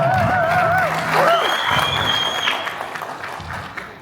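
An audience at a motivational event claps in a broad, sustained burst, joined by a few high whistles or shouts, then slowly fades.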